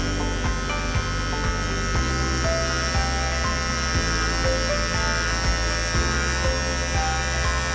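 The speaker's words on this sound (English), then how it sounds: "and just using the corner of the clipper" Electric clippers hum steadily and loudly up close while trimming a poodle's face, the buzz pulsing in short repeated strokes with no talking.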